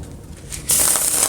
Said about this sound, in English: Thoroughly shuffle the deck